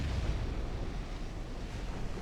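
Naval battle in Ultimate Admiral Dreadnoughts: dense, continuous rumbling of massed ship gunfire and shell hits, a steady booming wash with no gaps.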